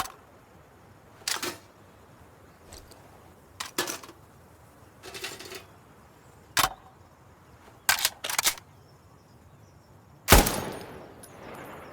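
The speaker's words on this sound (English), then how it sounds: "Oh, changing mags!" A rifle magazine is swapped in the shooter Insurgency Sandstorm: a series of sharp metallic clicks and clacks spaced over several seconds, ending in a louder snap as the weapon is charged, with no talk.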